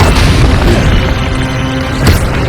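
A loud, booming magical impact from an Expelliarmus spell cast in the Hogwarts Legacy video game, a heavy low rumble that swells and fades, with a sharp hit near the end.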